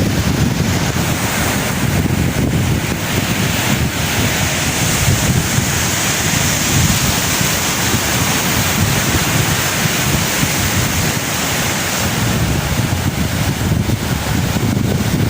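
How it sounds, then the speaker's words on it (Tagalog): Strong surf pounds a windy, rainy beach in a continuous loud roar, with heavy gusts buffeting the microphone throughout and no voices. "Kasi malakas ang alon dito eh."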